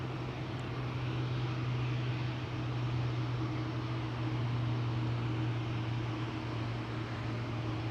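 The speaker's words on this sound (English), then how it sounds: "Christian is talking about the Hercules, and I think I might be hearing it." A Hercules aircraft flies somewhere near Amsterdam Schiphol Airport, heard as a steady, distant engine drone with a constant low hum under broadband rushing noise throughout, and no talking.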